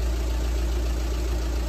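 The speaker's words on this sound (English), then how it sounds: "Engine is on" A Volkswagen Transporter T5 van engine idles with a steady, close, low rumble and no change in pace, heard while a 12V air compressor is about to pump up the tyres.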